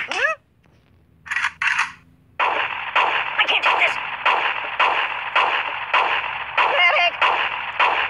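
Gunfire from a gun in the mobile game Kick the Buddy: a rapid run of loud, close, regularly spaced game gunshots after a short pause and a couple of brief bursts.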